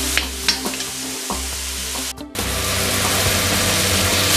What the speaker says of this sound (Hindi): इसको हम 5 से 6 मिनट अच्छे से पका लेंगे ताकि टमाटर और जो प्याज, लहसुन, मिर्च का मसाला हमने तैयार किया है वो अच्छी तरह से भुन जाए